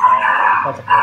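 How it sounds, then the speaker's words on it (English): Dog barking behind a man's speech, a brief raised outburst heard under the talk. "That's a dog."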